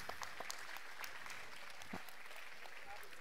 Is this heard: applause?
yes